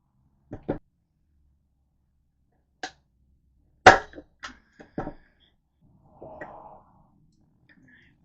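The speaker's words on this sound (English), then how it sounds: "you just staple them to the outside of the top lid" A staple gun fires into the top lid of a wooden planter, producing a handful of sharp, isolated clacks and thumps, the loudest in the middle, separated by quiet gaps.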